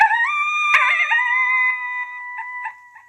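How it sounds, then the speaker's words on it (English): An ICOtec Outlaw electronic game call plays a recorded group howl loudly and clearly, with several overlapping wavering howls and yips trailing off into short broken notes, with no talking. "This is ICOtec Group Howl 1."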